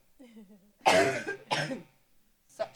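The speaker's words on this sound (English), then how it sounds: "I need to cough first" A close, loud cough in two harsh bursts, preceded by a brief soft hum and followed by another short cough.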